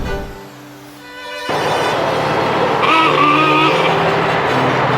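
A 1927 Rolls Royce Phantom I Piccadilly driving along, its engine note rising from a low hum into a steady loud drone with a whining tone, heard from inside the car.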